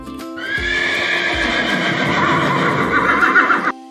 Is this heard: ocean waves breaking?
no